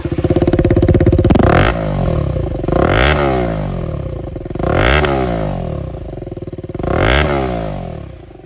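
KTM Duke 250 motorcycle fitted with an AR short exhaust, idling with a loud, close, choppy thump and blipped through four sharp revs that rise and fall back to idle.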